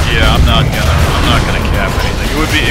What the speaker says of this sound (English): There's people shooting at me with rockets.